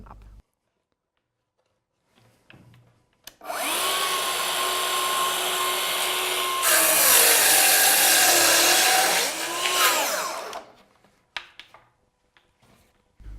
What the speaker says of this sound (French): c'est vraiment facile de faire des découpes sur cette planche avec la scie à capot basculant HKC 55